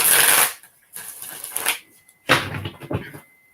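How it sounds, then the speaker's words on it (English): Three quick bursts of playing cards being riffle-shuffled close up, separated by short pauses. "Let me shuffle them up really good here."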